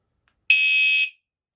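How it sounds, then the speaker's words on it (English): A WSDCAM USB rechargeable bike alarm with remote gives one loud, steady, high-pitched electronic tone lasting about half a second, then stops sharply, with silence before and after. "That's what the alarm sounds like."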